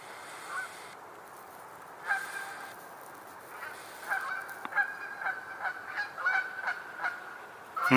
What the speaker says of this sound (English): the other geese that we saw that were still there, they don't seem like they're in a hurry to leave just yet